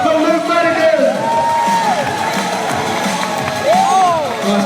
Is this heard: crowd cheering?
yes